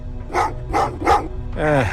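Dogs bark in the video game Terminator: Resistance, three loud evenly spaced barks followed by a longer growling howl, close and clear.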